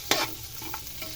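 Mung beans and garlic stirred in a pan over low background sizzle, with one sharp scrape of a utensil near the start and a few softer scrapes after it, close by and with no voices.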